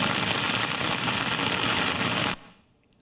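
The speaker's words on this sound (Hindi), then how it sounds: "सुबह से ही जोरदार बारिश ने दिल्ली और आसपास के इलाकों को भिगो कर रख दिया" Heavy rain pours down in Delhi as a dense, loud, steady hiss that cuts off abruptly near the end, leaving quieter background noise.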